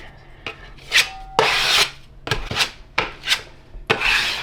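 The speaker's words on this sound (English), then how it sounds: "And then they sand it down again." Homemade wood filler mixed from sawdust being sanded down on a DIY stair landing built from milled lumber: several separate rasping, rubbing strokes in short bursts with brief pauses between, close by and fairly loud, no talking.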